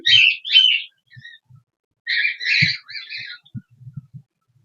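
Newly bought budgerigars in a cage fitted with clay nesting pots give close, bright chirps and squawks in two clustered bursts, with soft low thumps between them.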